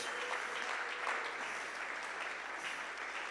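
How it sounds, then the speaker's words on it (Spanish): A church congregation claps steadily and fairly quietly as an offering to God, a dense, even wash of many hands with no gaps, heard from a distance. "Dale esa ofrenda de palmas a Dios"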